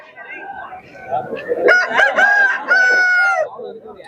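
A rooster crows loudly nearby at a large chicken market in Kundrapalli, South India, one long drawn-out call rising over softer clucking from other fowl.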